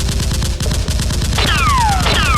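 Nerf guns fire in rapid, continuous volleys during a staged Nerf war, with dense repeated pops and a couple of whistling sweep sounds layered over the top.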